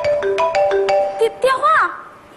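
A phone ringtone plays a short bright melody of repeated tones rising into a quick warble, loud and close for about two seconds during a Chinese stage comedy sketch.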